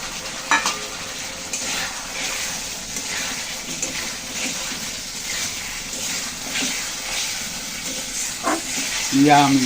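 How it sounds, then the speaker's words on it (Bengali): Fried potatoes being sautéed in spiced masala in a pan, with a continuous sizzle, spoon scraping and stirring throughout, and a voice briefly audible toward the end. "এখন দিয়ে দিচ্ছি ভেজে রাখা আলুগুলো, আলু দিয়ে একটু ভালো করে কষিয়ে নেব"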